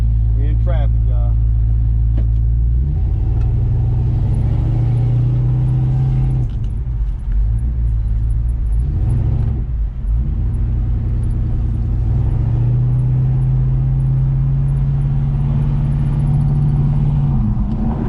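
Chevrolet Nova driving in traffic, its engine a steady close low drone with slight revving shifts, while a person talks over it.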